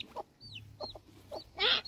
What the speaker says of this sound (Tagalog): Oh, may manok, nakawala lang, puti.